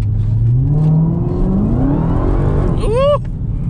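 Dodge Demon engine revving hard and accelerating, a loud sustained roar with rising pitch heard from close by, followed by a sharp high squeal near the end as the car brakes hard.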